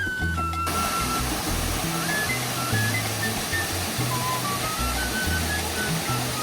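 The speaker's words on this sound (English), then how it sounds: "you arrive at a series of waterfalls, the last of which forms this great natural swimming pool for you to enjoy" A waterfall pouring into a natural swimming pool in a forest near El Nido gives a steady, dense rushing roar throughout, with faint melodic tones drifting over it.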